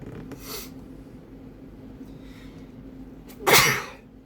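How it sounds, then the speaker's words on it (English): One sharp, loud sneeze bursts out near the end, after a couple of quieter breathy sniffs in a hushed room. "I had to sneeze."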